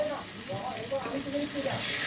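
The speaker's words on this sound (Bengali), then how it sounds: "আলুটাকে এবার একটু ভেজে নেব ওই তেলের ভিতরে।" Potatoes frying in plenty of hot oil in a wok (kadai), giving a steady, moderate sizzle with faint stirring scrapes throughout.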